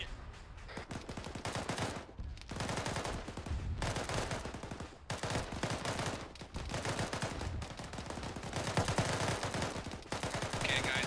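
Sustained automatic gunfire in a video game fires at a helicopter's rotors, dense rattling bursts broken by short gaps, loud and continuous for several seconds.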